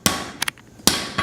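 Three sharp hammer blows on hot steel while a hatchet is forged, each strike ringing bright and close, the middle one a quick double hit, with short silences between.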